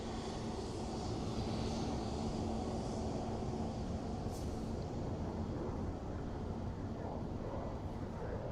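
A KLM airliner at Dublin Airport rumbles steadily for several seconds as a broad, continuous engine roar at moderate distance, with no talk over it.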